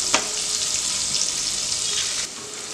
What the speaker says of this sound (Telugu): ఇప్పుడు ఉల్లిపాయ మనం కొంచెం కలర్ మారే వరకు ఫ్రై చేసుకోవాలి